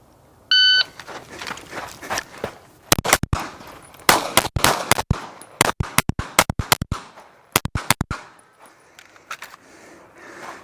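Pistol gunshots ring out during a USPSA practical shooting stage, loud sharp cracks in fast pairs and clusters with brief gaps as the shooter moves, starting after a short electronic start beep.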